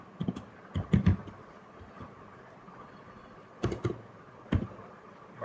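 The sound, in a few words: typing on a computer keyboard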